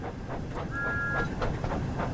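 A Thomas the Tank Engine locomotive from the Wonders of Sodor video game rolls along under power, with a steady rumbling chug, rhythmic clatter and a brief tonal hiss or whistle, continuous and moderately close.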